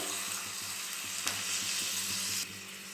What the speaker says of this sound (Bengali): মশলাটা কষানোর জন্য দিয়ে দেব সামান্য পরিমাণে একটু জল